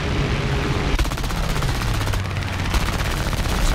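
Rapid machine-gun bursts from a P-400 in War Thunder air combat with an I-15bis, a loud continuous rattle of fire over a heavy droning engine roar.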